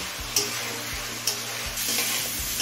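Spice paste mixed with water frying hard on a high flame for a bhola fish curry, a continuous loud sizzle broken by a few sharp spatula knocks against the pan at irregular intervals.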